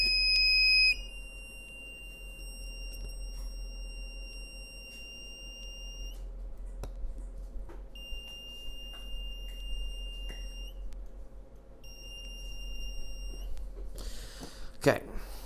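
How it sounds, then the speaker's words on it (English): A buzzer on a homemade Amazon-sourced metal detector beeps in short and longer stretches with gaps between them, partly muffled as it is covered, under a steady background hum. "I'm going to cover that buzzer with my finger to quiet down"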